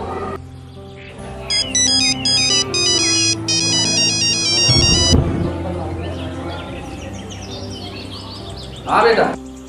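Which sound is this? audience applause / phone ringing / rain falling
phone ringing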